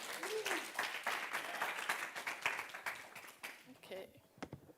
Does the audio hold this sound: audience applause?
yes